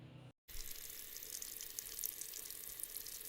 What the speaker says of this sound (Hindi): गाइस ये तो टूटी का पानी है।